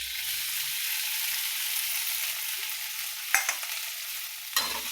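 Food roasting in a little oil in a pan gives a steady broadband sizzle, with two sharp clatters of stirring against the pan near the end; no voices.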